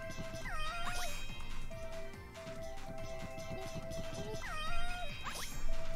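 Cats in the video game Gal*Gun Returns meow repeatedly in clear, rising-and-falling calls, several mews close together over a busy background of game music.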